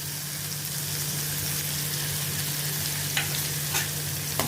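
Finely chopped onion sautéing in a pan for a spinach dish, a steady close sizzle with a few faint scraping clicks of stirring, no talking.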